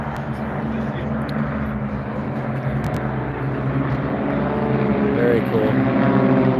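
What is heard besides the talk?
airplanes flying past at an air show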